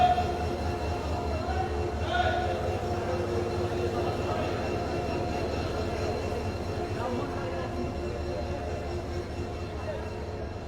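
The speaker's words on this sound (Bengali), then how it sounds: "একের পর এক ট্রেন আসছে এবং ট্রেনগুলি তাদের গন্তব্যস্থানে পৌঁছে যাচ্ছেন যাত্রীদের নিয়ে।" A train at the crowded Kamalapur railway station in Dhaka produces a steady low rumble of carriages and wheels, with the hum of a busy platform around it and a faint brief squeal.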